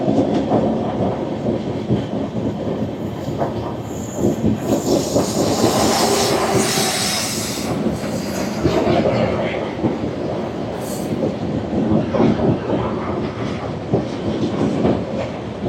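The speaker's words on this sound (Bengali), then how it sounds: "এই সময় মালগাড়িটাও আসছে, আমাদের ট্রেনও কার্ভ মিটছে" The rumble of a Garib Rath Express rounding a curve, heard from on board, mixes with the clatter of a goods train passing alongside. A steady loud roar of wheels carries rhythmic clacks, hiss and brief squeals.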